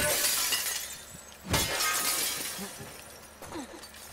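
Glass shatters sharply in The Last of Us Part II, a crisp break over steady game ambience, followed by a fainter second crack of glass moments later.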